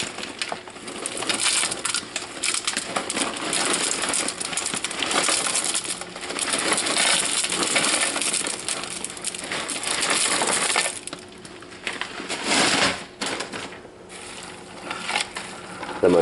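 Wood smoking chips pour into a container in a steady, dense rattling stream of many small clattering pieces that keeps going for most of the stretch, with a short lull near the end, no talking.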